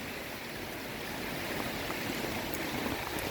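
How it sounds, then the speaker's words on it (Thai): Mountain water rushes past a house after rain, a constant broadband roar of fast flowing water that stays steady and close with no voices. "นี่มันน้ำจากภูเขามาตรงนี้"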